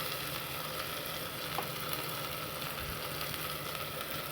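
A paste of ginger, garlic and green chilli frying in a pan with onion and tomato for pulao gives a steady, soft sizzle that holds even throughout, with one faint clink partway through and no voices.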